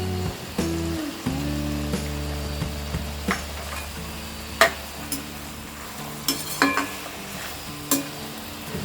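Soya manchurian stir-frying over a high flame, with a steady loud sizzle beneath repeated sharp clacks of a spatula against the pan and no voices.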